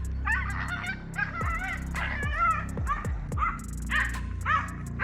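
A pug barks and yelps in short, excited bursts while tangling with a lizard on a road, with whimpers and yips mixed between the barks.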